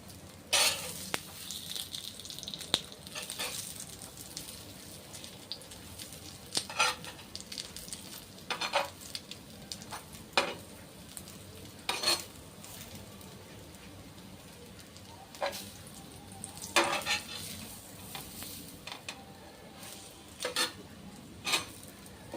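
Patties for ragda pattice fry in a pan, a steady low sizzle with repeated scraping and stirring clicks of a spatula against the metal, close by and with no one talking.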